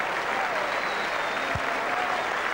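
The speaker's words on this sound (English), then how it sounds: "the Oval crowd will now rise to their feet and salute a wonderful batsman" Dense, steady applause from the crowd at the Oval cricket ground as a batsman is saluted, a continuous wash of clapping heard from a distance with no gaps.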